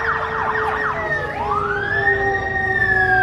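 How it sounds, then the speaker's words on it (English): An emergency vehicle siren passes close by, loud and alone, its tone sliding in quick yelps before settling into a long rising wail. "there's more emergency stuff going by"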